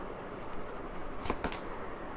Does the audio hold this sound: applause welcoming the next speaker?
no